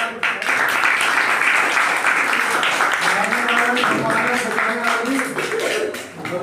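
A live audience at a youth organization gathering applauds to welcome its vice president, a sustained burst of clapping lasting several seconds with voices mixed in.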